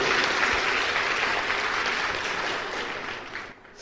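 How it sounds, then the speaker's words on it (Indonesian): A church congregation applauds loudly, dense and continuous clapping from many people that fades slightly toward the end, with no voices over it. "beri tepuk tangan yang paling meriah untuk Bapak Yahweh"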